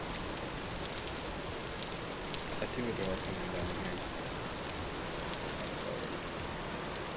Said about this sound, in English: It's always raining down here